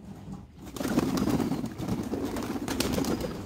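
Pigeons coo steadily in a close, busy chorus at a home pigeon farm, with low throaty calls overlapping and faint rustling around them, no talking.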